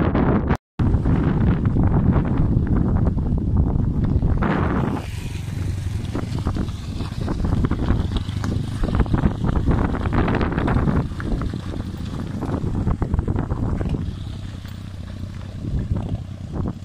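Cold mountain wind blows hard at sunset, a continuous loud rush buffeting the microphone, with a brief dropout near the start and a faint engine-like drone beneath.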